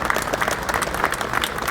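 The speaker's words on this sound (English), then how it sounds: "What a big round of applause for Toxey Hayes and everybody at Mossy Oak" Crowd applause at an NRA event honoring Mossy Oak, steady dense clapping throughout, moderately loud and continuous without speech.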